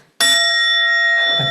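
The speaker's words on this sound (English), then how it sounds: "The bell of remembrance" A bell of remembrance struck once at an indoor Earth Day gathering, a bright ringing tone with steady overtones that sustains and slowly decays, heard alone after a brief silence.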